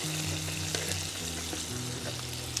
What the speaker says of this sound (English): that's going to just deglaze the pan ever so slightly and lift off all that crust from the steak